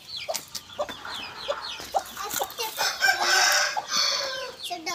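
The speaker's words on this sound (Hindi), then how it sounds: "तो है चिट्टा मुर्गा" Rooster crowing loudly among clucking chickens, with several overlapping crows and calls close by, the loudest stretch in the middle of the five seconds and no talk over it.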